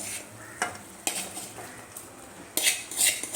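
A spoon stirs cooked tapioca into squid curry in a pot, giving several sharp metallic clinks and scrapes at an irregular pace over a soft background hiss, close and fairly clear with no talking.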